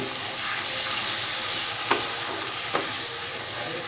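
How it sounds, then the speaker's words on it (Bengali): Ground coriander, cumin and red chilli powder sizzling in a pan for a goat-liver dal, with a splash of water added; a steady, close hiss runs throughout, broken by two brief sharp spits. "মশলাটা লেগে যাচ্ছে তাই সামান্য জল অ্যাড করব।"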